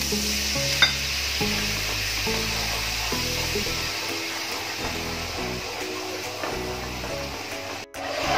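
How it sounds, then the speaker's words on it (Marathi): A pan of tempering with kokum, just topped up with water for a dal dish, boils and sizzles steadily, a dense continuous hiss with some faint clinks near the start. "आपली फोडणी चांगली उकळली आहे"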